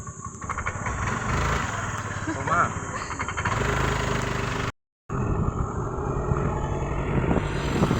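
A motorbike carrying five people rides along with its engine running steadily throughout, close and fairly loud, with a brief cut in the middle and people talking over it.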